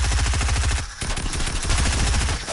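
Rapid automatic assault rifle fire in a video game, a dense stream of shots rattling steadily for the full stretch with a brief dip near the first second, loud and close.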